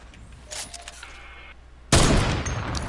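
Sniper rifle fire in the Fortnite battle royale game: a sudden loud shot blast with a sustained noisy tail after quieter game ambience and faint clicks.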